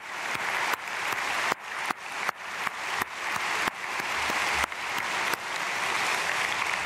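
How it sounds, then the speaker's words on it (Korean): A church congregation at an early-morning prayer service applauds the children gathered at the front: sustained, even clapping from many hands, filling the hall without any voices. "우리 사랑하는 자녀들 박수로 축복하겠습니다."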